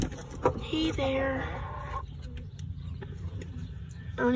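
A chicken on a farm clucks close by in a few short, uneven calls over a low background rumble, with faint voices nearby.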